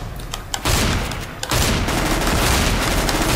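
Rapid bursts of shotgun fire and other gunfire crack through a Counter-Strike GO Arms Race match, dense, loud and close, with an explosive boom near the start and near-continuous shots after.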